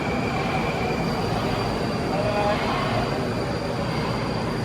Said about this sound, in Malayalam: നമ്മുടെ മെട്രോ വന്നേ